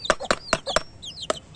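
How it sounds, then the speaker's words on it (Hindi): A desi hen gives a short run of close, distinct clucks, four quick ones followed by a lone fifth, with thin chirpy calls in between. "ये है मुर्गी हमारी"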